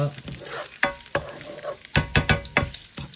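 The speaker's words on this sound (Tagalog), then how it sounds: "We will saute the ginger" Ginger sautés in a pan, a soft sizzle punctuated by several sharp scraping clacks of a utensil stirring, irregular and close, with no talking.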